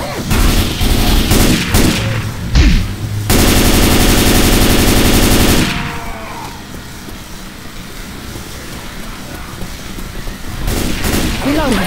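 Rapid automatic gunfire in Left 4 Dead 2 during a rainy level, loud close bursts and a sustained stream of shots, then quieter ambience and a few more bursts at the end.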